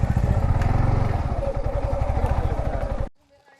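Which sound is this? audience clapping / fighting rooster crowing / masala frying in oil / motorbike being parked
motorbike being parked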